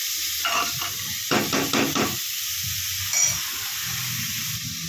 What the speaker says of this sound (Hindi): अभी 2 मिनट को अच्छी तरह चलाना है गोगरू को और प्याज को।